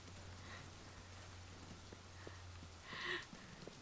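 Steady soft patter of magic rain falling indoors under a roof in the video game Fable 3, a faint, even hiss running throughout, with a brief louder swell of drops near the end.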